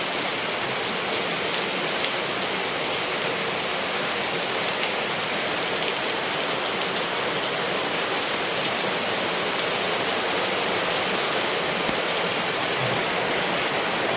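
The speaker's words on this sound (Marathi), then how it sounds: "पाऊस पडतोय जोरात" Heavy rain pours down steadily, a dense, even roar of water hitting surfaces with no breaks, loud and close.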